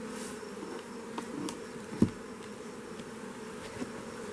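Honey bees buzzing around their hive in the early evening as they come and go, a faint, steady hum with a few brief louder passes close by.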